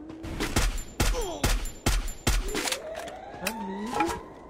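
Gunfire in the mobile shooter Free Fire: five loud, sharp shots in an uneven rhythm, then two fainter ones, with a rising whine and other game sounds between them.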